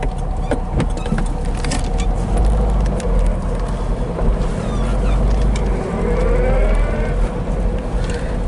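A 1965 Porsche 356C rolls slowly backward with a low, steady engine rumble, running close and fairly loud for several seconds, its tone shifting slightly as the car moves.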